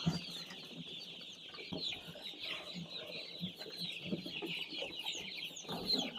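Many six-day-old chicks cheeping continuously in high, overlapping peeps, close by, with soft rustling and occasional clucks underneath.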